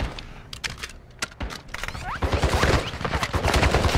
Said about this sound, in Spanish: Esto como disparando alguien.